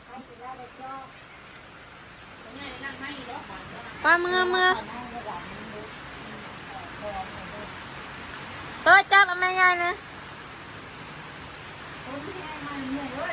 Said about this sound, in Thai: ฝนมาอีกแล้วพี่น้อง